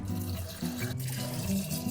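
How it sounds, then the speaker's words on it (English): Beet and dill brine is poured over olives in a jar, giving a steady, close liquid trickle and gurgle with no talking. "Now we're ready to pour the brine."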